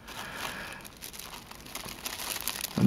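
Paper wrapping inside a Deck Maniacs subscription crate crinkles and rustles close up as the box is unpacked, a steady run of soft crackles with a louder handling bump at the end.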